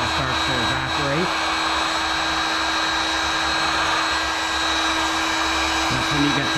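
A heat gun blows continuously over poured resin on a resin table to thin a white layer. It makes a steady, loud whooshing hiss with a constant whine and a faint voice underneath.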